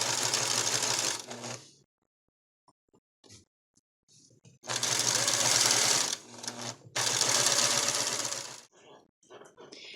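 A sewing machine stitches around the outside of a lacy flower girl dress piece in two loud bursts of rapid buzzing, separated by a quiet pause with faint handling clicks.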